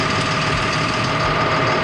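An engine idles steadily, giving a continuous, even, fairly loud mechanical drone with no change in pace and no voices.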